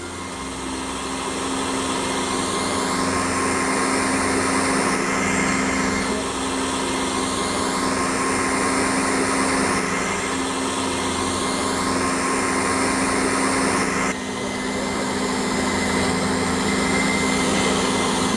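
An electric mixer kneads bread dough for Korean garlic cheese bread, a steady loud motor whine running continuously with a slow rising and falling pitch and a brief dip near the end, with no talking.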